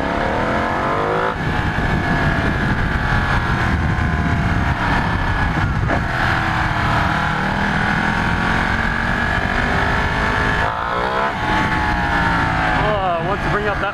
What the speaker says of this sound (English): Sounds like a Panigale S in freaking race mode.